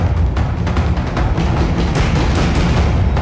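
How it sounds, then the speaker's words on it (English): Layered drums in tribal game music pound together in a dense, rapid, heavy rhythm, loud and full for a few seconds, with no voices. "So all drums together sound like this right now."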